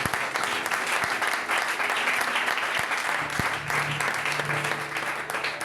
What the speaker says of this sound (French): Acclame Jésus pour elle.